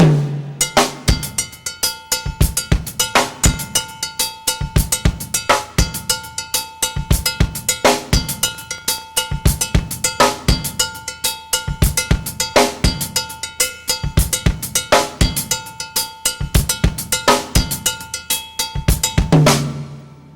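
A drummer plays a songo-funk groove, the left hand striking a cowbell mounted above the hi-hat while the right hand moves between hi-hat and snare; the cowbell rings out in a bright, steady, close pattern for the whole stretch.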